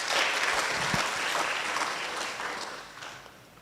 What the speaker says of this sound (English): So you always give yourself a big clap.